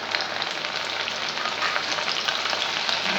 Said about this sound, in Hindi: तो अब हम चने को तल लेते हैं।